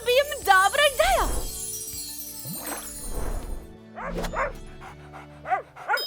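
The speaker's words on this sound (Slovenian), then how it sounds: "Pes." A dog barks and yips in short bursts, with whimpering tones in between, close and fairly loud, mixed with other voiced sounds.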